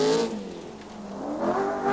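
Rover rally car driven by Tony Pond at the 1982 Welsh Rally Sprint, its engine revving hard and close, pitch dipping then climbing again as it accelerates, loud and alone with no talking.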